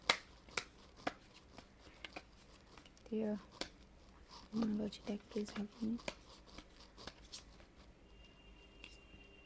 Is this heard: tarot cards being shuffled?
yes